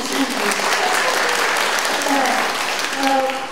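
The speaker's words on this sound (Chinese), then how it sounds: "你们是不是大声鼓掌？" An audience at an art charity sale and award ceremony breaks into loud, sustained clapping that fills the room, with a voice speaking over it.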